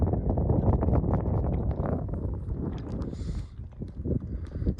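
Breezy wind buffets the microphone on an open hilltop facing the Weaver Hills in the Peak District, a steady low rumble that lasts throughout, with a few faint light knocks near the end.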